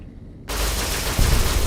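Loud sustained bursts of automatic gunfire in a combat area of a Fallout-style shooter, a dense rattling fusillade starting abruptly and continuing without pause.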